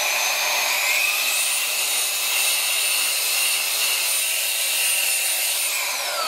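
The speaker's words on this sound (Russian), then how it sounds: "чаще всего я буду использовать как воздуходуйку для выдува пыли из системных блоков" A Baseus A3 car vacuum cleaner run as an air blower gives a steady, loud, high-pitched whine and rush of air that holds unbroken throughout.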